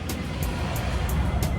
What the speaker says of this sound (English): you come across that sound when you start your car, more than likely your catalytic converter has been stolen